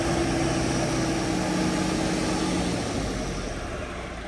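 A tractor engine with a stuck throttle drones steadily and loudly without letup, holding a constant high rev with a low, rumbling hum underneath and no voices.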